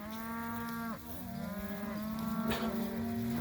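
A fat cattle herd being combined from three groups into one large herd on pasture at night, with several overlapping long moos, loud and close, continuing throughout without talk.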